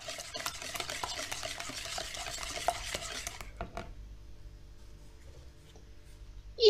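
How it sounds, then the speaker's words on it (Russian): A whisk or spoon stirring pancake batter with sugar in a bowl, rapid scraping and clinking strokes for about three seconds, close, then stopping into near quiet with a few small knocks. "И опять взбиваем все это, ну, перемешиваем"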